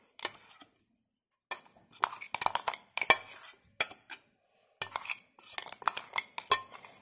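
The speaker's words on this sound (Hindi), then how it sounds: "तो मैं ये लोहे का बर्तन ले रही हूँ और इसमें ये सारा पेस्ट जो है" Curry leaf paste being scraped out into an iron cooking pot: a series of irregular metallic scrapes and clinks of a utensil against metal, in bursts separated by brief silences, close and clear without talk.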